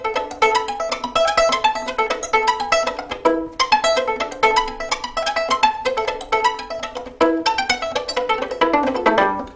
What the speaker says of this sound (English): we use the bow at the tip to create a very pizzicato type sound